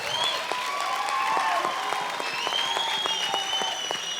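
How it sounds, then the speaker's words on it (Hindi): Loud, sustained audience applause on a televised Indian dance competition show, dense clapping from a studio crowd that fills the whole stretch at an even level. "जोरदार तालियां हो जाए गीता माँ के लिए।"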